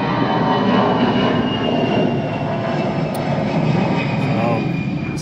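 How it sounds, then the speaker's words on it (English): A low-flying airplane on the flight path near an airport roars overhead, a loud continuous broadband engine drone that fills the whole moment with no talk over it. "Sorry, got a plane that's going to go right overhead."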